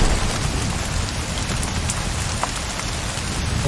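Heavy rainstorm with thunder in The Cycle: Frontier video game, a loud, dense, unbroken hiss of rain hammering surfaces with faint low rumbling beneath, filling the whole stretch without pause.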